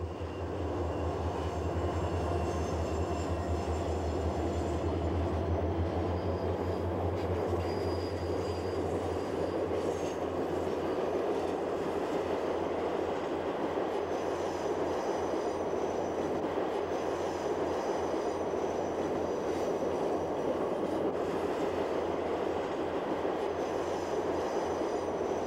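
The Western Star passenger train, led by an SDP-40 and two F-7B locomotives, arriving at the St. Paul station with a steady loud rumble of engines and rolling wheels, faint squeals above, no talk.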